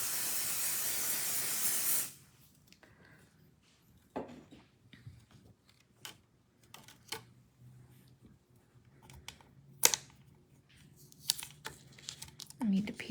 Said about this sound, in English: I need to pixie spray the back of this.